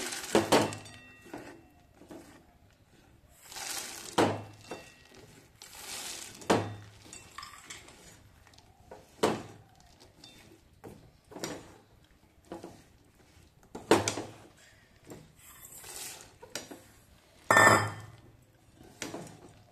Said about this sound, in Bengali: এবার এর মধ্যে বাদামটা আস্তে আস্তে করে মিশিয়ে নেব।